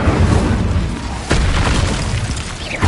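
Incendio fire spell blasts in Hogwarts Legacy combat, heavy booming bursts over a continuous roaring rumble, with one sharp blast standing out midway.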